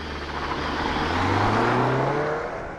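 A 2021 Jeep Wrangler 4xE hybrid accelerates hard from a launch, its engine drone rising steadily in pitch and loudness for a few seconds before easing off, heard close from inside the cabin.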